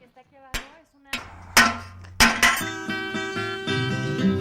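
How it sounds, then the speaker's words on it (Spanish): A hammer strikes a piece to shape its neck, landing about every half second in loud, sharp blows whose bright metallic ringing builds and overlaps into a sustained tone. "el sonido del martilleo es lo que le va marcando la pauta"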